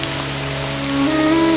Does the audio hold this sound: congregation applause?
no